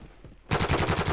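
A DMR rifle in the video game Modern Warfare 2 fires a rapid, evenly spaced string of sharp, loud shots that starts abruptly after a brief quiet moment.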